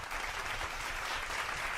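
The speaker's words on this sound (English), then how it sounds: "Round of applause." Applause from a studio or small group greets the last of 24 members of the K-pop group tripleS, a steady dense wash of clapping that holds at a moderate level for under two seconds.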